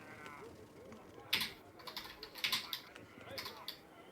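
A computer keyboard clatters in short bursts of clicky keystrokes during a tabletop game session, fairly close but quiet, with people talking around it.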